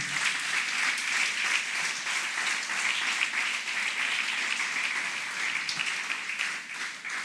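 Sustained applause from a church congregation fills the space, a dense, steady wash of many hands clapping at once, loud and unbroken for several seconds with no voices rising above it.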